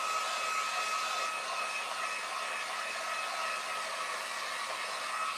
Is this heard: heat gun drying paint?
yes